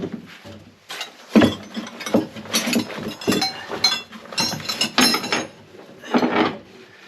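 Metal spanner working a 1/2 inch nut on a boat, with irregular clinks, ratcheting clicks and scraping knocks of metal on metal, moderately close, no talk.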